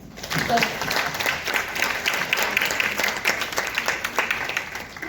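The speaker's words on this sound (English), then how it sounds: "I think we should clap for them a bit more" An audience gives sustained applause after a panel discussion, a steady crowded patter of many hands, with a few voices calling out beneath it.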